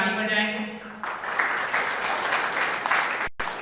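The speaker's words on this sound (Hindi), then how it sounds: "तो ऐसा जिनका सभी यस रहा तो अपने एक बार ताली बजाएंगे।" An audience at a talk on love claps together in a dense, sustained burst of applause that follows a speaking voice and carries on until it cuts off near the end.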